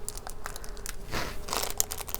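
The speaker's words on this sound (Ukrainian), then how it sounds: "Там зволожили пакетик," A moistened plastic bag holding freshly cut variegated lemon cuttings is handled close by, giving soft crinkling and crunching rustles, with a brief louder crackle near the end.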